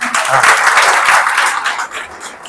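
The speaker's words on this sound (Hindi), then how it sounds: "तुम लोग नहीं तालियां देना भाई" Applause from a lecture audience at a hotel management college, a dense wash of clapping over about two and a half seconds that thins slightly toward the end, with some voices mixed in.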